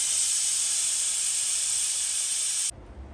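Steam hisses loudly and steadily from a pressure cooker of chickpeas after its whistle is lifted, a broad continuous rush that cuts off abruptly near the end, leaving a low background hum.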